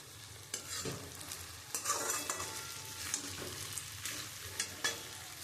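Ghee going into a pan of rohu fish head muri ghonto brings a soft, steady sizzle, with a few sharper stirring scrapes and clinks of a spoon against the pot, close by and fairly quiet.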